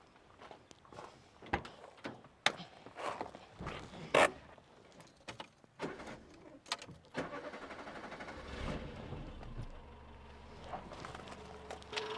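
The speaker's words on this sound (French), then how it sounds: "J'ai une vieille voiture, je vais vous démarrer pour montrer qu'elle démarre." An old car engine starting outdoors: scattered clicks, footsteps and thumps, then the engine turns over and settles into a low steady idle in the second half.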